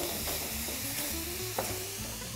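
Mushrooms with salt and bell pepper fry in a pan, a steady close sizzle with light stirring scrapes and one sharp clack of a utensil partway through.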